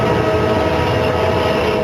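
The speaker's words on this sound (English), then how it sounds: "22 carriages rolling back without an engine." Twenty-two runaway train carriages rolling back along the tracks without an engine give a continuous loud rumble and steady rail drone with no voices.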